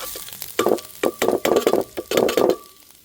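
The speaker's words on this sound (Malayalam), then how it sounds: "നാളികേരം, കുറച്ച് ചുവന്നുള്ളിയും വറ്റൽമുളകുമാണ് ഞാൻ വറുത്തെടുക്കുന്നത് കേട്ടോ" Grated coconut, shallots and dried red chillies roasting in a pan over a wood-fired stove, stirred in quick rhythmic scrapes with soft sizzling, close and loud with no talk.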